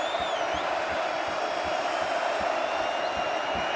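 Large stadium crowd at a college football game, Iowa against USC, producing a steady, distant roar of cheering that holds evenly throughout with no breaks.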